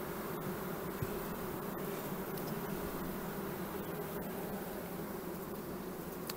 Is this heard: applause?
no